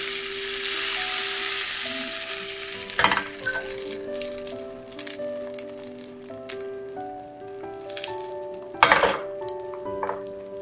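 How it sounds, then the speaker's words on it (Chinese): Rice batter sizzles in an oiled pan, a loud bright crackle at first that settles into a steadier fry, broken by a couple of sharp clinks from utensils against the pan. "锅中放油，倒入米浆，大小自己定，"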